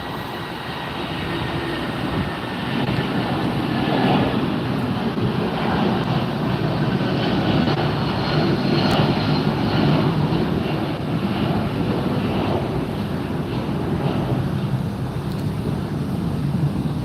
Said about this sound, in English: and here goes the United flight.